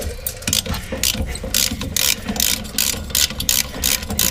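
A socket wrench ratchets quickly and repeatedly, close up, in short clicking bursts while undoing 9/16 bolts on a front suspension bracket of a Lincoln or Ford, with no talk.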